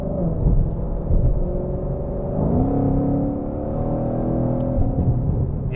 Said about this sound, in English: I can hear a little bit of supercharger whistle.